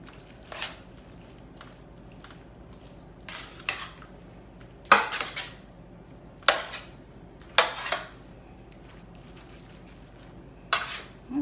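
Spaghetti is mixed in a pot while a meat sauce cooks, giving close bursts of utensil scraping and clinking against metal. Quiet pauses separate the uneven strokes, and no one talks.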